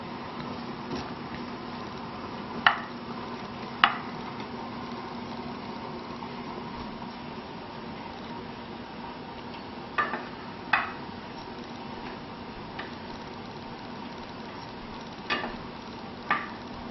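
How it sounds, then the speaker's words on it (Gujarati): Chicken biryani rice is stirred in a pot with a spoon, a faint, steady sizzle and scrape broken by a handful of sharp metallic clinks spread across the stretch, with no talking. "પાછી જરાક આપણે એને હલાવી નાખશું."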